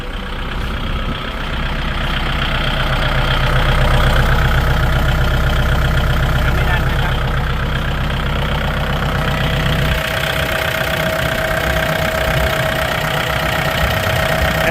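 A used Kubota L4708 tractor's original four-cylinder diesel engine runs close up, a loud, steady idle with a rapid knocking pulse and a faint whine that shifts slightly partway through.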